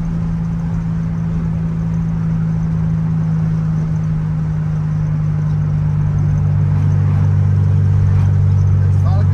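A Volkswagen Beetle (Fusca) with a 1600 engine drives along with a steady low droning hum and rumble inside the car, holding a constant pitch and rising slightly near the end.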